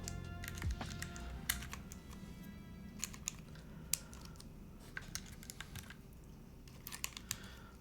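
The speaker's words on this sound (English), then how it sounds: "Sounds cool when typing fast IMO." Fast typing on a Keycult Rev 2 TKL mechanical keyboard: a quick, steady run of light clicky keystrokes up close, with a few sharper key hits standing out over a low background hum.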